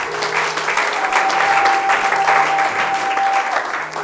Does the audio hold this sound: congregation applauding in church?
yes